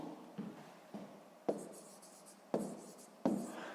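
Pen or pencil writing numbers by hand on paper during a sixth-grade maths exercise, a series of short scratchy strokes in quick bursts, close and fairly quiet, with no talk.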